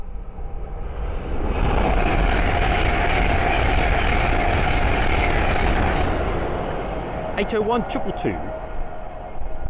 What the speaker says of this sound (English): the next train to pass by is a Hull Train 800 from Stirling to London King's Cross